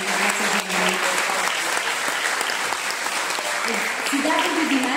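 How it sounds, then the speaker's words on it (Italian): Audience applause at a music recital with violin students, a sustained round of clapping from a room of listeners, with a few tones and voices mixed in. "se potete farmi un secondo applauso per la difficoltà"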